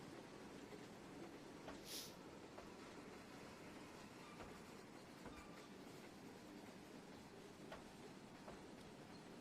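A steam train in the video game Trainz 2019 rumbles steadily along with a continuous low roar and occasional faint clicks and a brief higher hiss, no voices.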